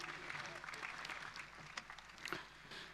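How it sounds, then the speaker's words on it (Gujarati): An audience at a religious discourse festival in Vadtal claps in a dense, fairly soft burst of applause that rolls on steadily, with a voice carrying over it. "પૂજ્ય સ્વામીની આ કથાને આપણે તાળીઓના નાદથી વધાવીશું"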